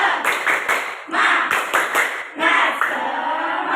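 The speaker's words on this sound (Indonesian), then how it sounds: "Tepuk semangat." A school class claps out a quick rhythmic spirit clap together in the classroom, several bursts of sharp hand claps with voices mixed in.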